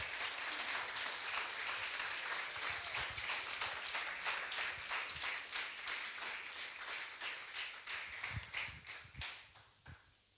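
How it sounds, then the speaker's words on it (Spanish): A church congregation applauds loudly during worship, a dense, sustained wash of clapping with crisp individual claps standing out, fading toward the end as the applause dies down. "¿Por qué no le das un fuerte aplauso al Señor?"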